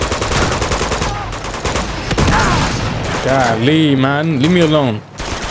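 Rapid gunfire from the video game Uncharted 2: Among Thieves rattles loud and nonstop, overlapped by a voice speaking over the shooting.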